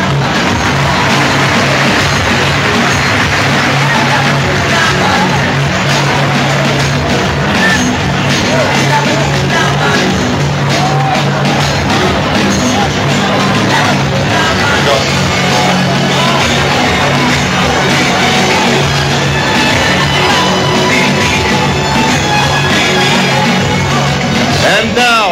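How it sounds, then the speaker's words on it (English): A packed basketball arena roars during the 2008 PBA Fiesta Conference finals Game 7 between Barangay Ginebra and Air21, a dense, loud, continuous wash of crowd noise and cheering that never lets up. "Give another round of applause for the Air 21 Express."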